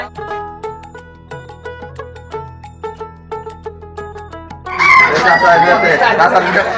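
Chickens and roosters at a village poultry market for ducks, hens and pigeon chicks cluck and crow repeatedly in close, rhythmic calls, then a burst of dense crowd noise and bustle takes over.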